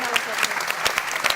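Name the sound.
conference audience applause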